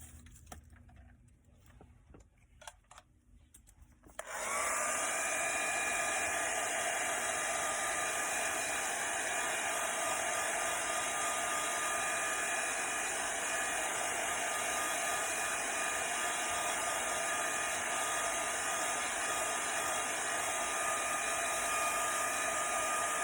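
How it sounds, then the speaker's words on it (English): A hair dryer blows with a steady, loud whine after a few seconds of quiet handling noises, running continuously and close by without interruption. "my hair dryer"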